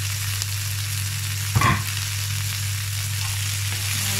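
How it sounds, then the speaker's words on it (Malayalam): Long beans stir-fry in a pan for a Kerala-style thoran, with a constant close sizzle and a single clattering stir partway through. "ചിനിപ്പയർ ഇട്ട് കൊടുക്കാൻ പോവാണ്."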